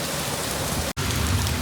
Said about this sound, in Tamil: சரியான மழை பெய்யுது.